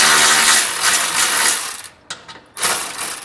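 A socket wrench ratchets rapidly while tightening a nut on a jounce bumper bracket during an Air Lift LoadLifter 5000 rear-axle air helper spring install, a close, loud clicking run that breaks off briefly near the middle and then resumes.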